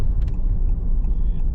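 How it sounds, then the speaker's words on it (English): A Honda Civic Type R FL5 with an Eventuri intake idles as it warms up, giving a steady low rumble that stays close and even throughout with no talking. "right now I'm just warming up the car"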